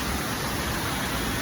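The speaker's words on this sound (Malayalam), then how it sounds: "മഴയുണ്ട്." Rain falls at night near a waterfall on the road toward Adimali in Kerala, a dense steady hiss of broadband noise with no pauses, close and moderately loud.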